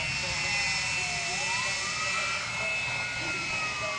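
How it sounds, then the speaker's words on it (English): A jet engine on a jet-powered vehicle lined up to race an airplane powers up with a loud, steady roar and a rising whine, its pitch sweeping upward over a few seconds. "Lining up to race an airplane. The driver powers up,"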